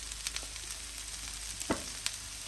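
Cherry tomatoes, cut up, tumble into a hot pan for spicy pork fajitas cooked at an off-grid cabin, with a steady sizzle and a few sharper crackles and pops rising over the frying hiss.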